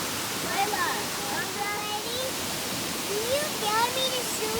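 A waterfall seen from the top of the falls beside a creek gives a steady broadband rush of falling water, with birdsong chirping over it throughout.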